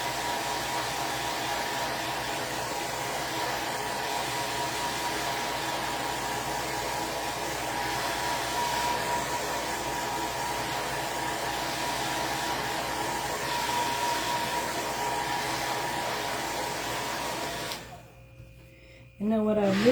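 Steady hum and rush of a dryer blowing air over a painted wooden farm-style towel holder, a continuous close whoosh that cuts off near the end.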